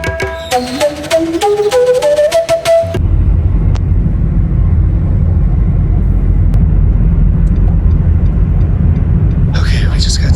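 Aircraft engine noise at an airport in Nepal, a steady, loud low roar that sets in abruptly after a few seconds of music and continues throughout, ending with a brief burst of music.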